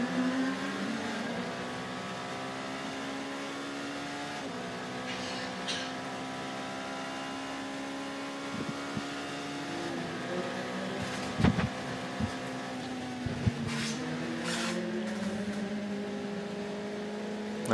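A high-revving engine whines at a race track during the 24 Hours of Le Mans night running, with sustained engine tones shifting pitch as cars pass, among them an LMP1 prototype such as a Toyota or Rebellion, with occasional sharper bursts.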